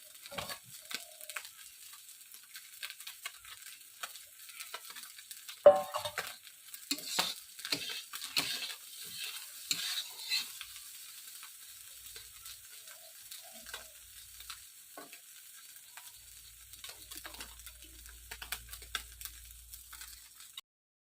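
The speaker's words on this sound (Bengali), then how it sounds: "মাছটা ফ্রাই হয়ে গেছে এখন আমি মাছটাকে তুলে নিব" Fish fries in a pan, seasoned with spices and chili but no onion or garlic, giving a soft continuous sizzle broken by scattered crackles and a few louder pops and stirring scrapes.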